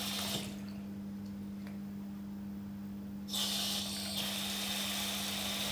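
Water running from a tap as hands are washed, a steady broadband rush that grows louder partway through and carries on alone without talk.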